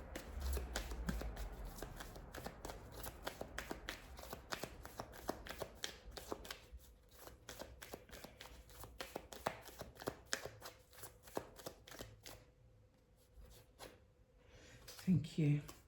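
Tarot cards being shuffled for a card reading, a long run of quick crisp riffling flicks close up, fairly faint, thinning out toward the end with a brief rustle.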